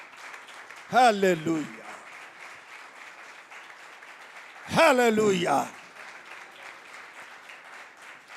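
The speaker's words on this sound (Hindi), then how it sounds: "सलीब की कुदरत के लिए आओ जोरदार तालियां बजाइए" Steady applause for the power of the cross fills a church Bible class, while a voice twice calls out over the clapping.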